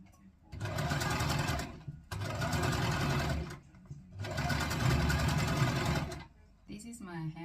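A sewing machine runs three steady, close bursts of stitching along the side seam of a drawstring skirt, separated by short pauses, with a brief spoken moment at the end.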